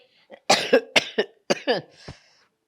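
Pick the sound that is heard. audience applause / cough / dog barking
cough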